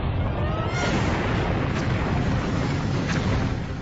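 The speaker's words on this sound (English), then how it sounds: "The heat of the explosion is so intense it melts their windshields and tire rims." A huge rocket explosion blast from a cracked booster, a deep continuous roaring rumble that stays loud and dense throughout, with no talk.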